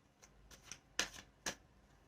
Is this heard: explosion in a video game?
no